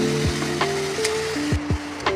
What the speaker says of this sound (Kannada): ಆಮೇಲೆ ಸ್ವಲ್ಪ ಫ್ರೈ ಮಾಡ್ಕೊಳ್ಬೇಕು.